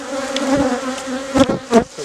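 Agitated honeybees buzz steadily and close by at an opened hive during a summer inspection, their drone rising in a few louder swells as individual bees pass near.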